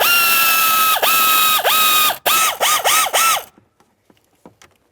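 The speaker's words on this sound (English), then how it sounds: "start in both of your Phillips head mounting screws and snug them up." A power driver snugs Phillips head mounting screws on a Ford Fusion blend door actuator, whirring in several short rising-and-falling bursts that quicken toward the end, then stop, followed by faint clicks.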